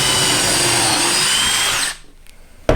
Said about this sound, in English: I'll finish getting these drilled in